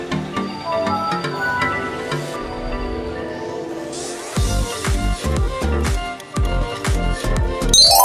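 A Windows operating system logo sound: a rich, loud synthesized chime with sustained tones that builds into a series of strong rhythmic accented hits, with no talking.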